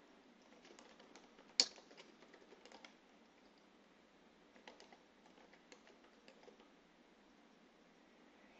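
Faint, close typing on a computer keyboard while entering account sign-up details: quick irregular key clicks in short runs, with one sharper louder tap near the start and quiet pauses between bursts.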